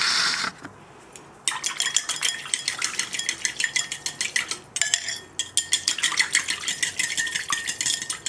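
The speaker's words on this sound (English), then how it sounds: "Whisk it up." A salad dressing of olive oil, vinegar, maple syrup, spicy brown mustard, pepper and soy sauce is whisked in a bowl, giving rapid, close metallic clinking strokes in quick bursts with a short pause between them.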